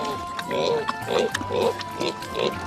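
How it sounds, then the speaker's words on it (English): Pigs grunt and oink in a pen, a few rhythmic snorting grunts coming close and moderately loud beneath a person speaking. "Now she has 16 pigs in her pig pen."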